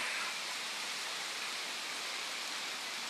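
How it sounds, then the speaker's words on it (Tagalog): Heavy rain pours down in a steady, dense hiss that stays even throughout, fairly soft and with no voices. "Lakas ng lakas ng ulan soba oh."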